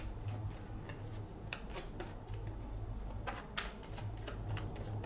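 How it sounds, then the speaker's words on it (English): Rapid papery riffling of tarot cards being shuffled several times in quick bursts, close by, over a steady low hum. "Off the top of the deck, 3 more shuffles."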